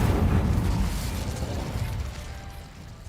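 An Incendio fire spell cast in Hogwarts Legacy, a loud, dense burst of low rumbling roar that swells at once and slowly fades over about three seconds, with no voices.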